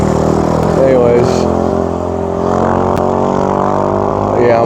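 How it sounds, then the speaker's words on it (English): Loud, steady traffic roar on a busy main road, heard from inside a truck, with engine drone and passing vehicles rumbling continuously throughout. "I'm on this main road, like I said, so kind of loud and noisy"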